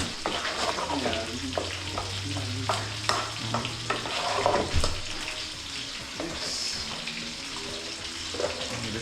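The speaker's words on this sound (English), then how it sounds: "Cornmeal now, you have to stir it, or else you're gonna lump it." Cornmeal cooked in coconut milk for Jamaican turn cornmeal is stirred continuously in a pot, producing a thick, wet churning and scraping with a steady bubbling sizzle and a low hum underneath.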